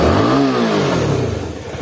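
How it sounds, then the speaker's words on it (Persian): A CF Moto 250 NK motorcycle engine runs close by, giving a quick rev that rises and settles back to a smooth, throbbing idle. "اینم از صدای موتورسیکلت"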